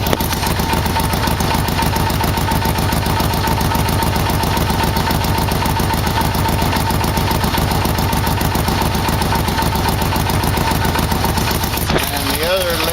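A Yamaha Vmax motorcycle engine runs loud and close for the whole stretch, with a rapid, rough, pulsing idle rhythm that barely changes.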